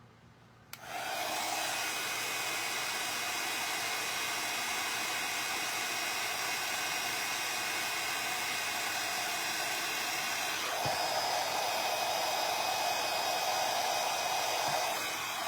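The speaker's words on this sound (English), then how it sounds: "And if you get too close with the heat gun, it's fine. It's going to scorch." A heat gun switches on and blows with a loud, steady rushing hiss close by, drying tissue-paper decoupage on a wine bottle, briefly shifting in tone partway through as it moves.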